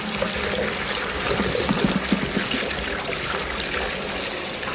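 Kitchen tap water runs steadily over Brussels sprouts being washed, a constant hissing splash with faint clinks of the sprouts moving in the stream.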